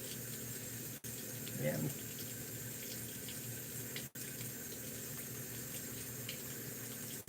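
A faucet runs steadily while a shaving brush is wetted under it at the sink, the water a continuous wash throughout. A brief spoken word comes partway through.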